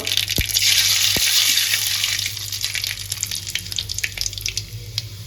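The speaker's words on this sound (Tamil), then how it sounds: "இப்போ போட்டுக்கலாங்க, கடுகு போட்டுக்கலாங்க. வெந்தயத்தை போட்டுக்கலாம் கொஞ்சம்." Mustard and fenugreek seeds hit hot oil in a pan with a loud, hissing sizzle. It settles into a busy crackle of small pops and spatters, close up, with no voices.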